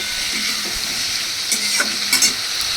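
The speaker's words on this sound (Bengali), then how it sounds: "এবার এই ডালটাকে বেশ ভালো করে কষিয়ে নেয় মশলার সাথে" Boiled lentils stir-fried with spices in a pan, a continuous loud sizzle with a few brisk stirring scrapes toward the end, close up and without voices.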